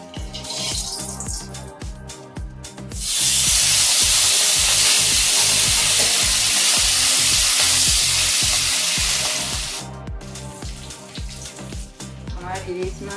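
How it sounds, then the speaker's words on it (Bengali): Hilsa fish frying in hot oil in a home kitchen, a loud, steady sizzle that starts suddenly, holds for several seconds, then fades back under a rhythmic music track. "ইলিশ মাছটা ভেজে নেব।"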